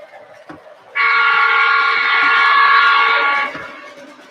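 A model train sounds a loud, steady horn tone for about two and a half seconds, starting abruptly and cutting off, over quiet background rumble.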